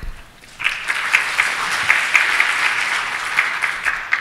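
Audience applause at a PyCon APAC 2014 tech conference talk, a dense steady clatter of many clapping hands that starts abruptly after a brief quiet moment and carries on evenly, with no voices over it.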